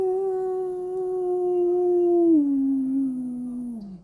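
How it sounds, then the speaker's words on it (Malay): A dog in front of a house lets out one long, drawn-out howl with a clear tone that slowly slides lower and fades at the end, heard alone and fairly close. "jika anjing bersalak-salakan"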